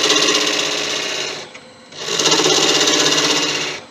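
Lathe tool cutting behind a turned angel halo in 5000-year-old bog oak, a loud, steady scraping whir that breaks off briefly and then resumes at full strength.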